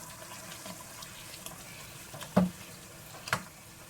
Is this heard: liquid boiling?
yes